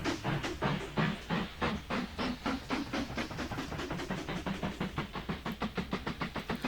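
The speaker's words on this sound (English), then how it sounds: "So this is our second coal train." A coal train in the railway-building game Mashinky runs with a steady rhythmic clatter of wheels and chuffing, loud and close, with no voices.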